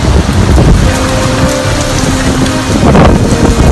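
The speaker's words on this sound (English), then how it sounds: "Storm surge is starting to fill inside the lobby." Heavy storm rain and surging floodwater pour into a building lobby, a loud, dense, continuous rush and roar with a faint steady hum underneath, heard alone without talk.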